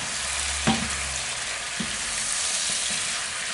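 Pepper frying in a small paella pan, a steady close sizzle with a clank near the start and occasional stirring scrapes, no voices.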